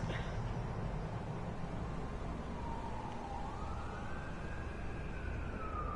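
Police sirens in the video game Vampire the Masquerade Bloodlines 2, a faint wailing tone that rises and falls in the distance over a steady, dense background rumble.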